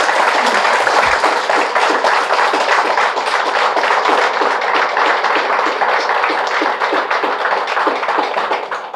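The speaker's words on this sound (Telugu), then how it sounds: "ఒకసారి గురుస్థాన్ ఆర్గనైజింగ్ టీం అందరికి మరొకసారి గట్టి క్లాప్ చేస్తున్నాము" An audience claps loudly and steadily for a workshop organizing team at an evening event, dense continuous applause with rapid overlapping hand claps holding for the whole stretch and easing only slightly at the end.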